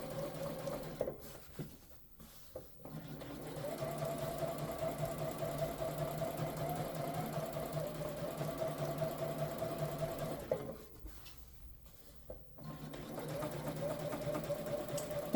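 A sewing machine runs in a steady, even whir while understitching a seam on a pocket, stopping briefly twice with faint handling noises in between.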